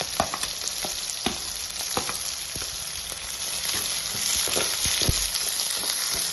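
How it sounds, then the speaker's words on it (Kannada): Onion and green chili frying in a pan for a masoor sprout palya, a loud steady sizzle with frequent spatula scrapes and knocks throughout, growing slightly fuller toward the end. "ಉಳ್ಳಾಗಡ್ಡಿ ಮೆಣಸಿಕಾಯಿ ಹಾಕೊಂಡು 1 ನಿಮಿಷ ಫ್ರೈ ಮಾಡ್ಕೊಂಡಿನ್ರಿ"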